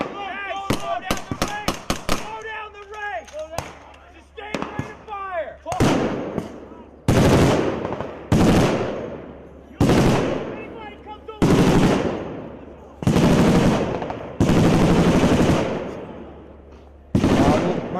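Sustained bursts of military machine gun fire during a live-fire battle group exercise, starting with rapid close cracks and settling into long, loud repeated bursts separated by short pauses, with shouted voices early on.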